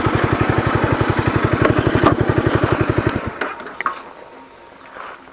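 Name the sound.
Honda CBR 250R motorcycle with Akrapovic exhaust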